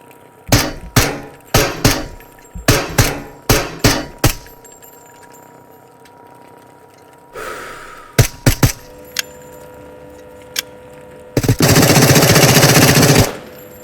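A suppressed AK-74M rifle in the Into The Radius VR game fires several quick bursts of sharp, close shots, then single cracks and a longer noisy blast.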